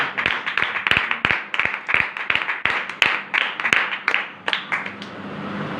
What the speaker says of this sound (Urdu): ایک بار زوردار تالی